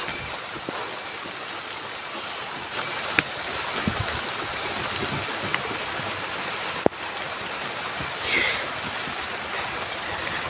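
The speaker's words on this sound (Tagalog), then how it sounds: "Lakas ng ulan mga idol." Steady, dense rain hisses and patters without pause, with a few sharp knocks and drips cutting through the constant wash.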